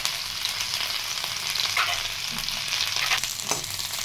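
Ginger frying in a kadai of hot oil gives a dense, close sizzle that hisses without pause, with occasional spatters and stirring noises over the whole stretch and no voices.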